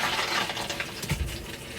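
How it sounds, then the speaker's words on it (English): Water pours into a toilet bowl in a brief, steady rushing splash, close and fairly loud, with no voices. "I like to run a little bit of water down there"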